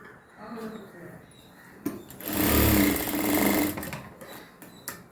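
A sewing machine stitching piping onto a round neckline gives a steady, close mechanical whirr that runs for a couple of seconds between quieter handling sounds, with someone talking throughout.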